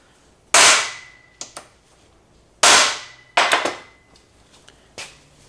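A rocker arm trunnion on a high-horsepower engine is struck in both directions, giving two sharp, loud, ringing metallic taps with a few smaller clicks after each one.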